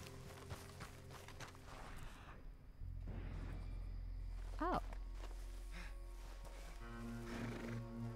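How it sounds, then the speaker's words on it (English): A Morgan horse in a video game gives a short, faint neigh midway, set against a low, steady game background hum and soft movement sounds. "Horse. What type of horse are you? Morgan."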